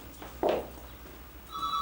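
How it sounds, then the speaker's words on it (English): A telephone rings faintly in a quiet room, one short electronic trill followed by a steadier tone at the end. "Is that your phone?"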